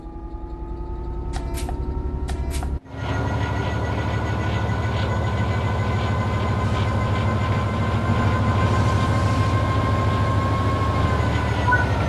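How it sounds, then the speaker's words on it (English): A train in Train Sim World 4 gets under way: a brief hiss and clunk, then a steady low engine rumble and wheel noise that holds loud and even as the train begins rolling, with a faint tonal whine above. "Apply some throttle to get the train moving."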